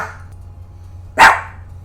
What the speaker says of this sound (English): Sorry, she will not stop barking.